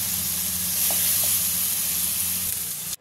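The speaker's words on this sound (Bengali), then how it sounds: "এবার এই মশলাটাকে আমি ভালোভাবে কষিয়ে নেব যতক্ষণ না পর্যন্ত মশলাটার উপরে তেল ভেসে আসে।" Spice paste for a chicken curry fries in oil with a dense, continuous sizzle close up, a low steady hum beneath, and a couple of faint utensil taps partway through.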